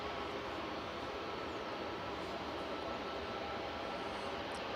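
A Ryanair jet at Manchester Airport departs on a quick turnaround, its engines a steady, broad, distant roar that holds evenly throughout.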